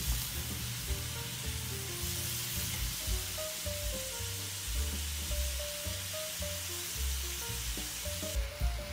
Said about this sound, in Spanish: voy a virar la carne por el otro lado y la voy a cocinar por unos minutos más hasta que esté bien dorada